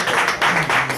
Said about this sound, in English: A round of applause for the Lord Jesus.